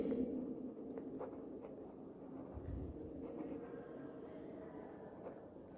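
Pen or marker writing on a board during an accountancy lesson gives faint scratching strokes in short, uneven bursts over a low, quiet room hum.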